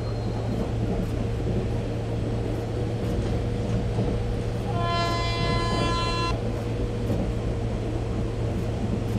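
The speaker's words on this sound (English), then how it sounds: "Make sure you honk repeatedly to alert the workers." A WAP-4 electric locomotive sounds one steady, loud horn blast for more than a second over the constant rumble of a train running on track after maintenance work.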